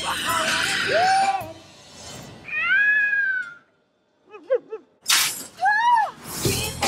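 A cat meows several times in a film trailer, with drawn-out, rising and falling cries between a sharp shattering crash and other noisy bursts, loud and close.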